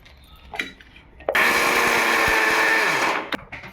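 A mixer grinder grinds roasted peanuts, whirring loudly and steadily for about two seconds, then stops, with faint kitchen clatter before and after.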